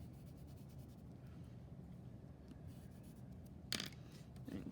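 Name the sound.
pencil colouring on paper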